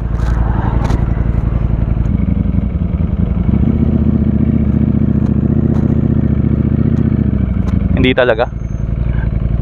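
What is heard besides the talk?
Ducati Streetfighter V4S motorcycle turning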